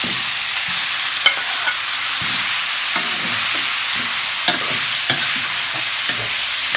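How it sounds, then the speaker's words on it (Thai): Minced pork and bones sizzling and frying in a pot, with scraping stirring strokes and small clanks of the utensil against the pot, close and steady, with no talking. "ใส่หมูบดลงไปเลยนะคะ จากนั้นนะคะเราใส่กระดูกลงไปเลยนะคะ"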